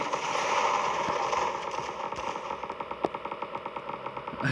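Rapid, rattling automatic gunfire in the zombie-shooting video game Zombie Defense, a steady dense stream of crackling shots at moderate loudness with no talking.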